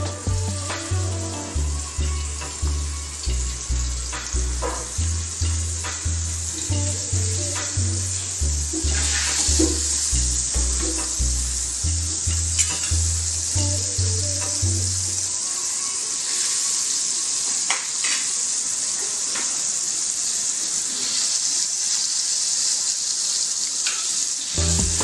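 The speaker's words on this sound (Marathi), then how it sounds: "आपण आता कढईमध्ये 2 चमचे बटर टाकूया." Two spoons of butter sizzle and fry in a kadhai with a steady, hissing crackle. A rhythmic, bass-heavy musical beat plays over the sizzle for the first half, then the frying continues alone.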